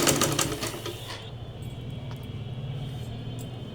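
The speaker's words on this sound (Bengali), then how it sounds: "আমি এখন সেলাই করে দেখাচ্ছি আপনাদেরকে।" A sewing machine runs while stitching a pillow cover seam, a steady mechanical whir that starts loud and busy, then settles into an even hum, close by with no talk.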